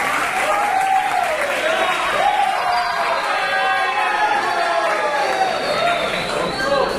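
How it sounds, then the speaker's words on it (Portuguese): Audience applause at a school podcast session, steady clapping mixed with crowd cheering and chatter throughout, moderately loud and continuous. "Uma salva de palmas aqui para ele."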